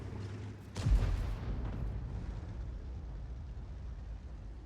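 A single artillery shell fired in World of Tanks, an M53/M55 self-propelled gun striking an FV215B British heavy tank: one sharp low boom near the start, fading into a steady rumbling background.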